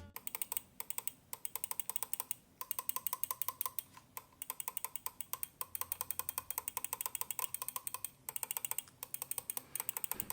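Rapid, crisp clicking from the main and side buttons of a Logitech G Pro X Superlight 2 mouse, close and fairly quiet, in dense irregular bursts with brief pauses, sounding hollow and boxy.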